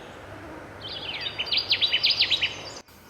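A Connecticut warbler sings in a tamarack bog at Sax-Zim Bog in summer, one bright, fairly faint song of quick repeated chirpy notes rising in volume, then stopping abruptly.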